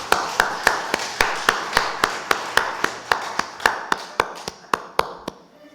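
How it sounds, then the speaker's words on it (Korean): Steady, evenly spaced claps from a church congregation, about four per second, sharp and rhythmic, fading at the end with no talk over them. "하나님께 영광의 박수 올려드립니다."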